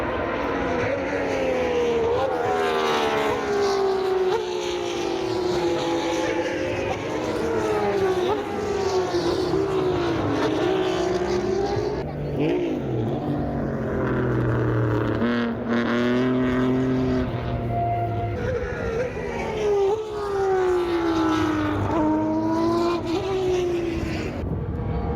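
Historic Formula 1 cars racing around the Paul Ricard circuit, their engines screaming loudly and continuously as they pass, with pitch sweeping up and down through gear changes and overlapping cars.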